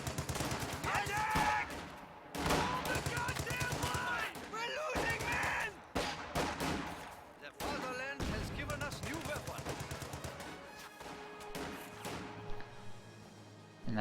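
Light machine guns rattle in a real-time strategy battle, with bursts of rapid gunfire and scattered impacts running continuously and loudly throughout, layered with dense battle effects and a voice talking over the action.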